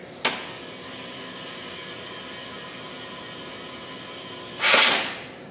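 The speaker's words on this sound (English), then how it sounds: "That will be the sound of air escaping from the Schrader valve and the tire." Short burst of air hissing from a tire's Schrader valve with the inflation tool not fully seated, a sharp click at the start, steady faint background, then a loud rushing hiss rising and fading near the end.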